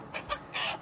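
Silkie chickens squabble in a coop, giving a few short, raspy clucks and squawks in quick bursts, fairly close and moderately loud with no talking.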